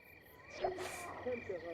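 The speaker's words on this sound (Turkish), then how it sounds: "Böyle çırçır böcekleri falan, ağustos böcekleri bir şeyleri bir şeyleri kurbağalı sesleri, mesleri karışık." Frogs croak in short bursts over a steady buzz of crickets and cicadas on a summer evening, the calls close and moderately quiet with no one speaking.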